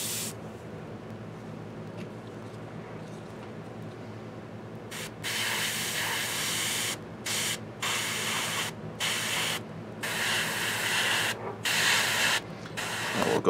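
An airbrush sprays thinned paint onto a Reaper Hill Giant miniature, heard as repeated close, loud hissing bursts with short gaps, following a quieter stretch at the start.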